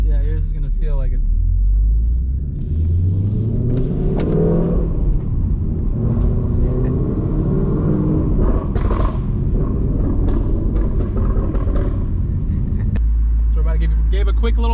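A Whipple-supercharged Ford Mustang on the road, heard from the passenger seat: a loud, steady engine rumble with rising revs as it accelerates, running throughout under people talking.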